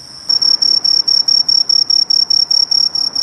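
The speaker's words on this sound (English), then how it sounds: "Listen to them loud-ass crickets. That's some Japanese crickets." Loud, shrill Japanese crickets chirping close by in a Tokyo tree, a rapid rhythmic pulsing of a high piercing tone that repeats steadily with no gaps.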